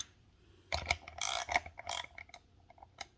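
A fitting being tightened on a homemade fuel line funnel, giving a run of close clicking, ratcheting and scraping mechanical sounds in short bursts with no talking.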